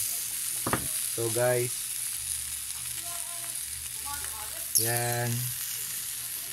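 Chicken longganisa fries in a pan with no oil, giving a steady close sizzle throughout while a voice talks over it in short bursts.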